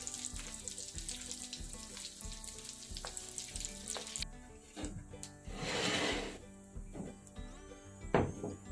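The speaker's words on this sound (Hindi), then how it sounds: "इसी तरह मैं ये भी टिक्की फ्राई कर लूंगी। इनको भी दोनों साइडों से अच्छी तरह फ्राई कर लेंगे।" Potato and pea tikki cutlets fry in a pan, a moderately faint sizzle with intermittent knocks and clatter, and a brief surge of hissing midway.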